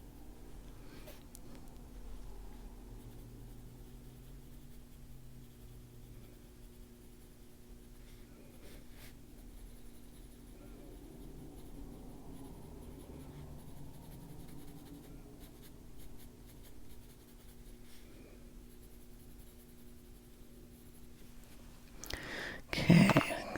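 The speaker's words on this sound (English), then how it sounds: "Just using that pencil very lightly," A pencil sketches very lightly on paper, a faint, steady scratching that runs close for about twenty seconds, with a louder knock near the end.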